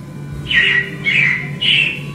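Animatronic robins chirp in the Carousel of Progress show at Disney, giving three evenly spaced bright squawking calls at close range over a low hum.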